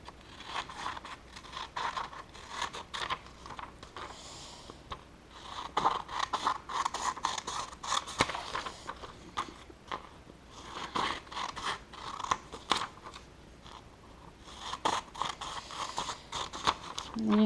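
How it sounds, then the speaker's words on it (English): Scissors snip through paper while cutting out sections for a Greek and Latin roots notebook, giving a run of close, uneven crisp scrapes and snips over soft background noise. "take our scissors. We're just going to cut it out real quick."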